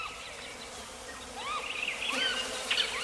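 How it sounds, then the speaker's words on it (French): Bees buzz around the yellow flowers of a palm known as the compost palm, a soft, continuous hum that swells slightly toward the end, with faint chirps in the background. "Son inflorescence attire les abeilles grâce à la couleur jaune"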